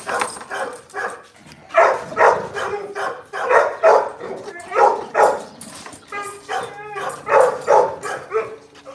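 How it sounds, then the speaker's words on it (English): American Bandog dogs bark repeatedly in a steady series of loud, close barks, with some whimpering and yips mixed in. "These are my American Band dogs."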